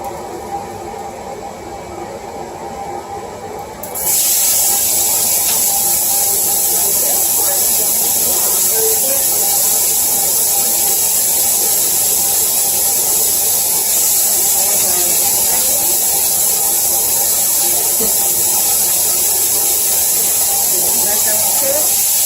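Onions hitting hot oil in a skillet burst into a loud, steady sizzle after a few seconds of quieter kitchen sound, then hiss continuously and evenly, close up, with occasional crackles.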